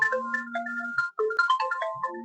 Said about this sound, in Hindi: ये यार फोन आ गया